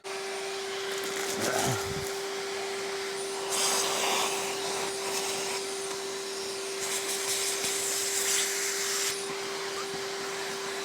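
A cheap budget vacuum cleaner runs steadily with a constant whine, its roar swelling and dropping as it passes over surfaces, with scraping sounds mixed in.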